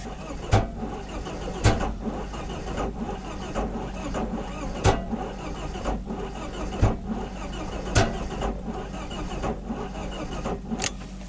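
The starter of a BMW E36 318is cranks the engine in a steady, rhythmic cycle of sharp clunks roughly every second, with a dull motor whir between them, loud and close without the engine catching.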